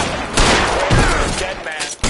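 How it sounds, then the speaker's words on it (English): Rapid gunfire rings out in the L.A. Noire detective game, a loud, dense volley of shots crowding the short stretch at close range, with a voice briefly heard near the start. "Opening fire!"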